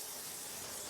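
A short burst of bright, steady hissing spray from a water nozzle washing a ceramic-coated car, loud and close, with nothing else audible.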